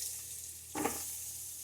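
Carrot drops into a pot already frying onion after browned beef for a pot roast, giving one brief louder sizzle and clatter over a steady low frying hiss.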